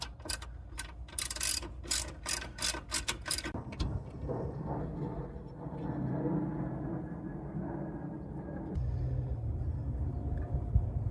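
A hand ratchet clicks in quick bursts close up while loosening the intake plenum on a Nissan Z31 300ZX Turbo, then low rumbling and handling noises follow in the garage.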